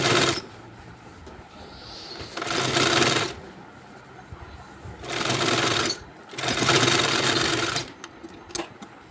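A sewing machine stitches a double seam on a blouse, running in several loud, steady bursts of rapid stitching separated by short pauses, with small handling clicks near the end.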